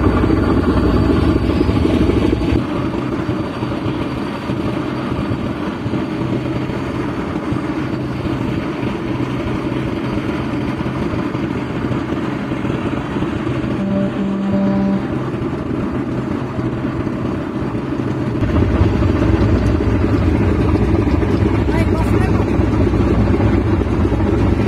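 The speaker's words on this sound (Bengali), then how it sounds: "আর এই মুহূর্তে শুনতে পাচ্ছেন এম খান 7 লঞ্চের গর্জন।" Deep, steady engine roar from the M Khan 7 passenger launch, a large river ferry departing Barishal at night, rumbling continuously and loudly with a brief shift near the end, no talk over it.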